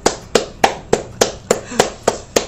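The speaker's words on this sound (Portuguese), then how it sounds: "Uma salva de palmas" Steady, evenly spaced clapping of about nine crisp, close claps greets a guest on a time-management podcast set, with no talk over it.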